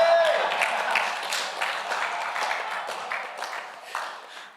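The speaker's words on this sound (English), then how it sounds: "give them a big round of applause" Audience at a boxing weigh-in claps and cheers for the fighters, a fairly faint, steady burst of applause that slowly fades over several seconds, with a voice briefly heard among it.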